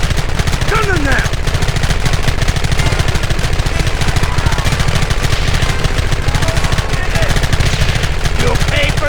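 Loud, continuous gunfire from the video game Red Dead Redemption Remastered, dense overlapping shots and rapid bursts filling the whole stretch, with shouted voices faintly mixed in.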